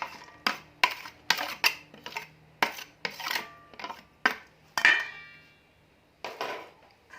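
A spoon clacks against a bowl while minced fish with spring onion, coriander, herbs and young chilies is mixed, making a rapid series of sharp close knocks and clinks in an irregular rhythm with short pauses.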